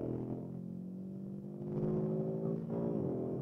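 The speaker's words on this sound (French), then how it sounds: "Et vous entendez beaucoup le moteur," A 2025 facelifted Audi RS3 engine pulling hard through a fast chicane at around 160 km/h, heard from inside with a steady, rising tonal drone and a brief dip and shift in pitch midway.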